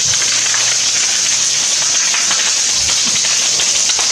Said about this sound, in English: A little bit of rain coming down.